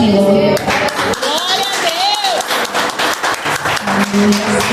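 Church congregation clapping in praise during an evening service, a dense burst of hand claps filling the space, with voices singing and speaking over it and a brief sustained tone at the start and end.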